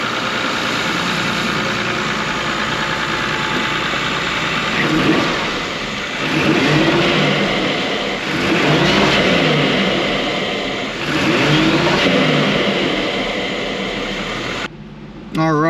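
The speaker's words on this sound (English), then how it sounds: "Let's go ahead and give her a couple of revy rev revs." A 1991 Toyota Supra Turbo MK3 with a boost leak idles and is revved several times, each loud rev rising and falling over a rough idle, heard close up with a person talking at times.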